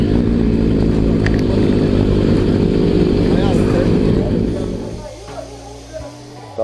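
Several motorcycles idle and rev at a busy motorcycle shop and workshop, a dense loud engine rumble that fades after about five seconds and leaves a quieter, steadier hum with small knocks.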